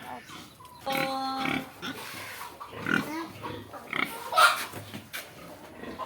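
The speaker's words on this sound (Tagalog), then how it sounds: "meron din pala dito mga baboy." Pigs grunt and oink at intervals around a farm in Pantukan, Davao de Oro, Philippines, mixed with people talking nearby and other outdoor background noise.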